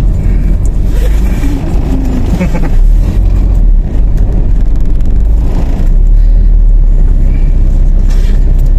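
Loud, steady roar of cars, buses and trucks rushing past on a highway, close by and continuous, with engine drone and passing surges, and people talking faintly underneath.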